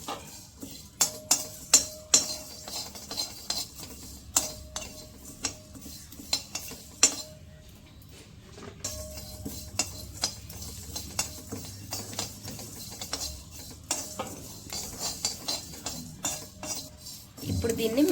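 Whole spices such as cloves, fenugreek, cumin, mustard and coriander seeds are stirred in a pan, with intermittent metallic scrapes and clinks of a spoon over a faint sizzle, and a voice speaks at points.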